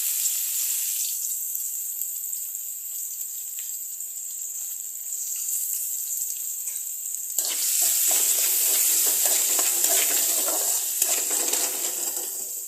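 Sliced onions dropped into already-hot oil for a Bengali rui fish and onion dish, with a steady hiss that swells into a louder, fuller sizzle partway through and keeps crackling close and continuous.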